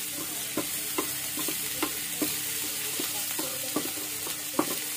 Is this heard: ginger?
yes